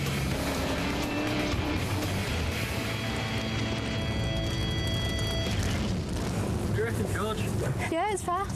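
A homemade race car roars continuously on a track during a race against many other cars, its engine loud and close throughout with tire and mechanical whines rising near the end.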